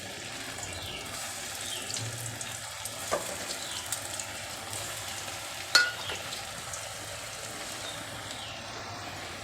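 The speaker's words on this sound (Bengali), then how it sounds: "আবারও আমি ভেজে নিচ্ছি।" Paneer pakora frying in oil, giving a steady, faint hiss with a couple of sharp clicks and pops rising briefly above it; no one speaks.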